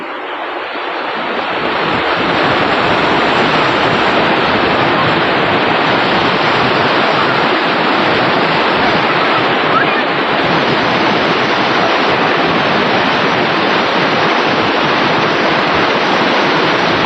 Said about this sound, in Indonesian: Dan ini adalah aliran sungai yang dari Waduk Malahayu ya teman-teman.